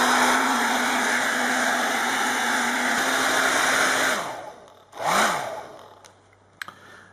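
A heat gun blowing hard to soften the glue under a 10-inch Lazer tablet touchscreen: a loud, steady roaring whine that cuts off near the end, followed by brief restarts and small clicks.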